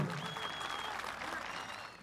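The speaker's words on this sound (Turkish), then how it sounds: "Bu anlamda baş pehlivanlarımıza kuvvetli bir moral alkış istiyorum." A wrestling crowd at a head-wrestler final in Serik breaks into dense, sustained applause that fills the whole two seconds. The clapping is loud and close and fades slightly at the end.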